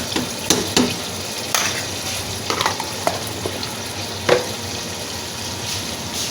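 Chicken methi with yogurt is stirred in a pan, with a soft continuous sizzle and scattered scraping clicks of the spoon against the pan, fairly close and moderate in level, with no talking.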